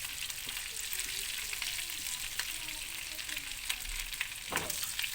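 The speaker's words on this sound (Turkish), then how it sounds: "Bize yağımıza da tatlı kırmızı biber ilave edeceğiz arkadaşlar." Sweet red pepper is added to melted fat and sizzles close up with a continuous bright hiss, scattered crackles and brief pops throughout.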